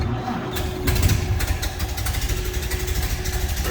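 A 1930 Ford Model A Tudor sedan engine cranks with the floor starter and settles into a steady, close idle, a low rumble with rapid even firing pulses throughout.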